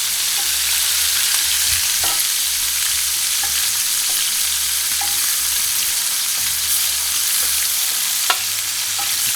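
Chicken pieces fry in a pot with a steady, dense sizzle and crackle throughout, punctuated by a few sharp pops and faint stirring knocks.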